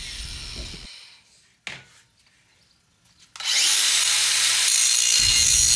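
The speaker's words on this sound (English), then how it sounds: "the angle grinder on these jobs is one of your best friends." An angle grinder cleans up a freshly cut square steel tube, first briefly, then after a quiet pause of small clatters it roars back in with a loud, sustained, hissing whine close by.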